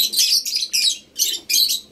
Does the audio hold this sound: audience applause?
no